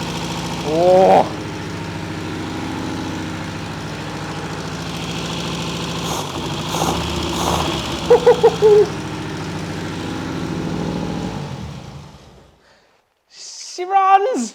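A Cosworth engine with no radiator connected fires up and idles with a steady mid-pitched drone for about twelve seconds, a few sharp revs partway through, then cuts off; voices speak briefly over it.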